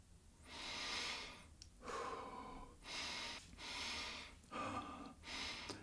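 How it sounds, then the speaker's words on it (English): Deep, rapid breathing during a guided breathing exercise, with loud, close inhales and exhales in a steady repeating rhythm of about five breaths, without speech. "Increase your breathing pace even more."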